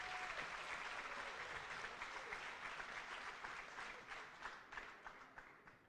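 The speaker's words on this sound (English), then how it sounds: "Give them a round of applause before we sit down." Families of graduates at a military academy graduation ceremony receive a sustained round of applause from a large crowd, steady dense clapping that slowly tapers toward the end.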